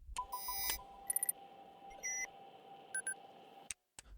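Short electronic beeps and bleeps from a PDA button sound effect, followed by a ringing alarm echo tone: clustered high chirps and pitched tones over a steady hum, ending in one isolated click.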